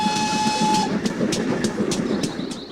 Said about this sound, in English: when a steam train chugs by